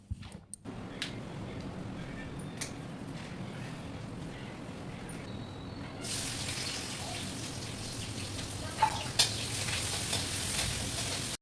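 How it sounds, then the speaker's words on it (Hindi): Ajwain seeds frying in hot oil for an okra dish give a soft, continuous sizzle that turns brighter and hissier halfway through, with a couple of faint clicks and no speech. "तेल डाल दिया था और अजवाइन डाल दी थी"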